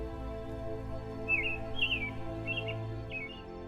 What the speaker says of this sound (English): The African grey parrot can copy almost any sound it hears